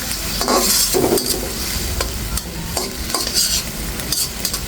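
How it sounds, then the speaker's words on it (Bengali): Tomato and spice masala being stir-fried in a pan for a stingray fish curry, giving a constant loud sizzle broken by regular scraping strokes of a spatula, close and without speech. "টমেটো আর মশলাটা এখন আমি অনেক সময় বসে কষিয়ে নেব"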